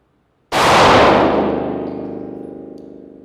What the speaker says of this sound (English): I'm going to get my sight picture, fire 1.